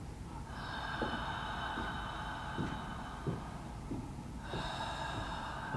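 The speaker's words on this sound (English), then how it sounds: "So it's a breathy ha on the inhale and the exhale, and you'll feel it through your throat" Breathy voiced "ha" sounds on both the inhale and the exhale during a Pilates breathing exercise, a long steady airy tone that swells again near the end, with soft catches of breath between.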